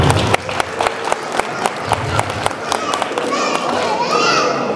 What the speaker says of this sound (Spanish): Necesito que me le den un aplauso para la gallina azteca